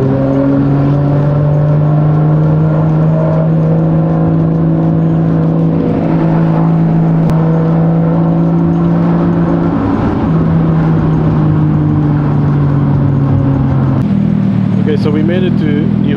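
A Nissan Skyline R34 engine drones loudly through Ginza's city streets, holding a steady low note, dipping as it shifts, then climbing again; someone speaks over it.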